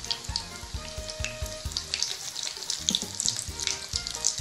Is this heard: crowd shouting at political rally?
no